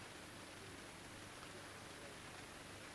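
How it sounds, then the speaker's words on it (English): Rain falls steadily at an outdoor model airshow, a faint, even hiss of dense patter with no clear drops standing out and no voices. "That's actual rain, isn't it?"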